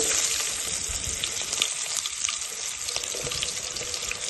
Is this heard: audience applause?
no